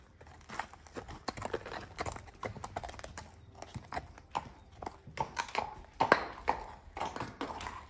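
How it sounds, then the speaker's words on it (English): Horse hooves clip-clop steadily on a hard surface, close by, with a few irregular taps and shuffles among the rhythmic steps. "this is my horse Stuart"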